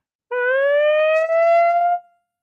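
A single rising siren tone sounds for about two seconds, loud and clean with strong harmonics, then cuts off abruptly with no other sound around it.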